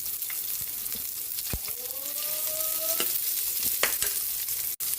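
Garlic and onions fry in a modest amount of cooking oil, giving a steady, close sizzle with a few stirring clatters and brief utensil clicks.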